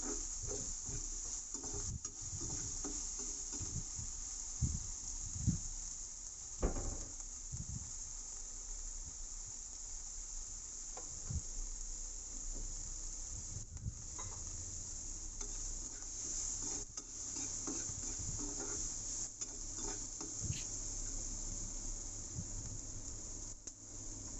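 Mutton curry with drumsticks and cashews frying and being stirred in a pan after salt goes in: a steady soft sizzle with scattered scraping and clinking stirs, close and fairly quiet.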